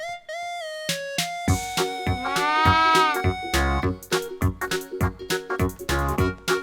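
A cartoon goat bleats in a wavering, nasal call over a lively, loud music track, followed by short rhythmic musical hits.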